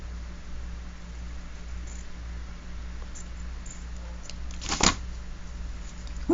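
Sample cards are cut by hand. One short, crisp cutting sound stands out near the end over a steady background hiss.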